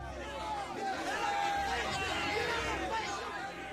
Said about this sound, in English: The angry roar of the crowd grows louder, the people's cries becoming more and more furious.